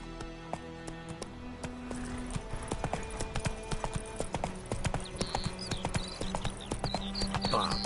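Hooves of the horse Roach galloping in The Witcher 3, a rapid, steady clip-clop rhythm throughout with jingling tack and faint ambient sounds, close and fairly loud.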